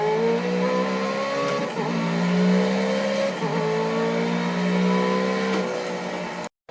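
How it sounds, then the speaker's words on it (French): A Pagani Huayra sports car drives on the Bugatti circuit at Le Mans, its engine droning loudly and steadily with rising and falling pitch as it shifts through gears, ending in a sudden cut. "on se retrouve avec le deuxième véhicule qui est une Pagani Huayra"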